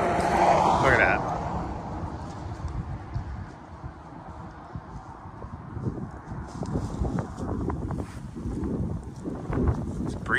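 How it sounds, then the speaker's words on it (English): Breezy outdoor wind blusters across the microphone in a yard, a steady rushing roar with gusts, loudest at the start and easing into fluctuating bursts throughout. "It's breezy out today."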